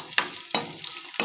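Green chillies, dried red chillies and garlic cloves fry in hot oil, sounding as a steady sizzle with three sharp bursts of stirring or tossing spaced across the short stretch.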